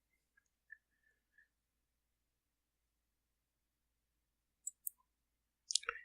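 Faint, sparse computer mouse clicks in a quiet room, a few isolated soft taps scattered across the clip, with a slightly sharper click cluster near the end.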